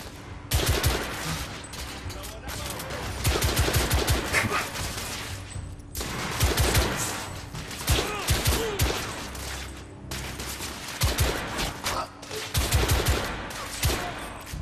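Repeated bursts of heavy gunfire from the video game The Order: 1886, loud and close, arrive in clusters separated by short pauses, with game sounds and occasional voices mixed in.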